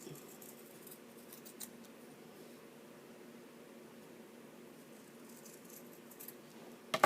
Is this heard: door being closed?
no